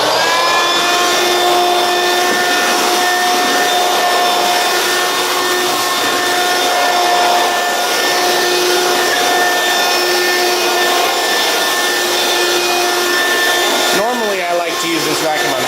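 Hoover Quik Broom Encore S2551 stick vacuum running on high speed, a loud, steady motor whine with airy rushing noise that continues unbroken, ending in a short shifting sweep as it is moved about.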